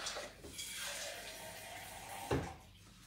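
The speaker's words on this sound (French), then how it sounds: "je vais mettre simplement de l'eau dans mon pot à lait" Water is poured gently into a milk jug, a faint continuous trickling with a brief clunk near the end, quiet and close with no voices.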